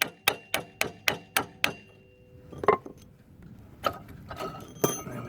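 Hammer blows on the front brake caliper of a Ford Fiesta Mk6: six sharp, evenly spaced metallic strikes, then a pause and a few scattered, slower knocks, close and clear.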